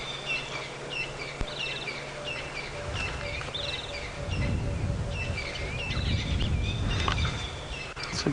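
A cuckoo calls repeatedly in the open African bush at sunrise, its short tuneful notes distant and fairly faint among other birdsong, with a low rumble of wind or a vehicle underneath.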